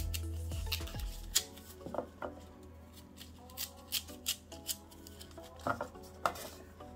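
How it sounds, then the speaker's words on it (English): A knife julienning carrots on a board for Jamaican escovitch pepper sauce gives a string of close, crisp chopping taps in an uneven rhythm, fairly quiet, with no talking. "And just julienne your carrots."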